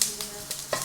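Garlic dropped into hot coconut oil with popped mustard seeds, a brief close sizzle with a couple of soft stirring scrapes.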